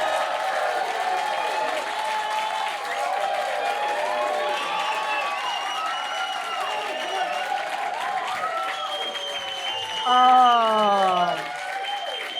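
A comedy club audience at the Top Secret Comedy Club gives steady applause and cheering as comedian Dave Chawner takes the stage, with whoops and raised voices rising above the continuous crowd noise.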